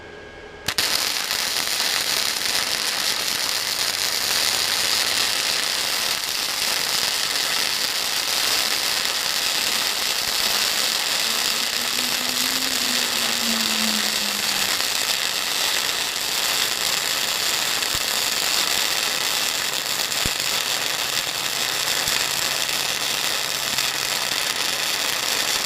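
A Titanium Easy-Flux 125 flux-core welder runs a continuous weld, a steady crackling, hissing buzz that holds loud and even for the whole stretch without pauses.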